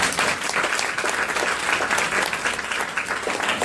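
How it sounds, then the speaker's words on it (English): A dense, steady wash of applause fills a business presentation hall as the audience claps for CBI Penang; the sound stays loud and even throughout, with no clear voices over it. "So give CBI Penang a round of applause."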